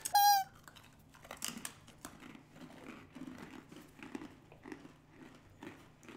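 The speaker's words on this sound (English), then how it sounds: "Listen to that crunch" Crisp crunching bites of a snack, a sharp burst at the start followed by repeated softer chewing crunches, close and fairly quiet.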